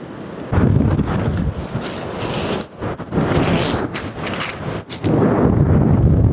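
Strong wind roars and buffets the microphone in heavy, uneven gusts, with brief lulls between the louder blasts.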